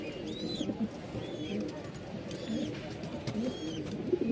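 Pakistani toy Lahori pigeons, a pair, coo in soft low repeated bursts close by, with faint chirps from other birds behind them.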